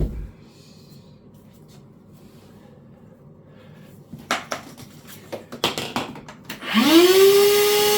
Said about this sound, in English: I think my vacuum cleaner's full